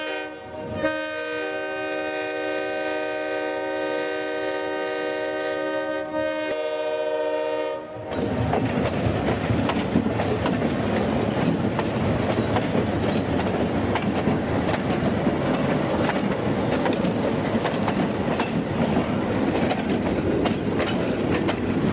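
A train pulled by the Jeep 9 locomotive on the Elkvalley line sounds a long, loud multi-tone horn for about eight seconds, then rolls past with a steady heavy rumble and rhythmic wheel clatter.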